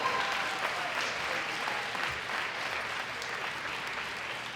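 Steady applause from an audience at a world classic powerlifting championship, honouring a gold medal winner; dense, continuous clapping that holds level throughout with no voices on top.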